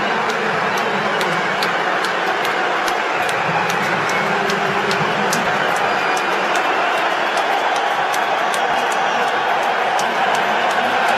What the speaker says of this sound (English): Come on, you blokes, get on your feet, give him a clap, because that is one of the great innings